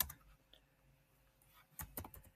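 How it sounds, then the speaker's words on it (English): Names typed on a computer keyboard, giving a few faint, scattered key clicks with a small burst of quicker taps near the end. "So what we're going to do is start typing in our names here."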